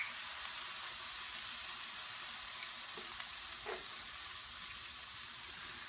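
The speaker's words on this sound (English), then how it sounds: "we'll fry these until the edges turn to they're golden brown" Small cornbread pancakes with bacon bits and sliced okra frying in a skillet, giving a continuous even sizzle with a couple of faint clinks, close and with no talking.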